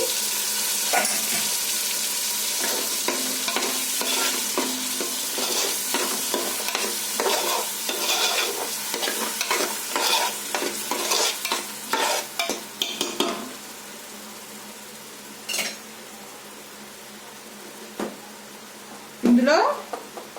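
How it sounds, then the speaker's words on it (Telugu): Tomato puree made from three tomatoes sizzles loudly in hot oil while being stirred for chicken fry piece biryani. The frying is dense at first, then quietens to sparse clatters and stirring sounds. "ఇప్పుడు ఆయిల్ వేడయ్యాక మనము టమాటా ప్యూరీ వేసుకోవాలండి"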